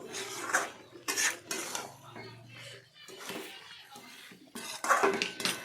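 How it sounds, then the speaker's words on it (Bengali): A spoon scrapes and clinks against a pan as tomatoes and soybean curry are stirred, in irregular close bursts with quiet pauses between, while a voice talks in the background. "তার মধ্যে কয়েকটা টমেটো কেটে দিলাম, কেটে দিয়ে ভালো করে নাড়াচাড়া করলাম।"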